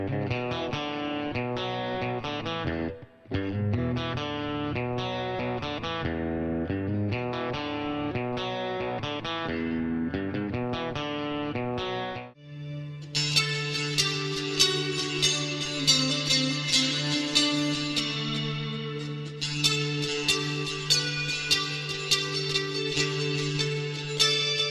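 A fake Fender Stratocaster electric guitar played through effects, first in steady rhythmic chord patterns, then after a short break in ringing sustained notes with crisp picked attacks, loud and close with no talking.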